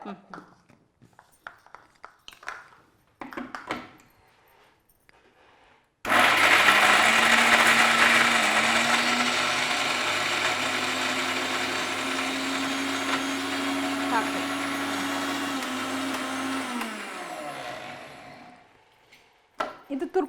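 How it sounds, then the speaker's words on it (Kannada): A mixer grinder grinding green chillies for okra chutney starts abruptly and whirs loudly for about eleven seconds, then winds down; brief talk comes before and after. "ಮೆಣಸಿನಕಾಯಿ ಮಾತ್ರ ಒಂದು ಮಿಕ್ಸಿ ಮಾಡಬೇಕಾಗತ್ತೆ"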